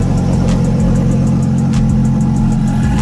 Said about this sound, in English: This is a beast car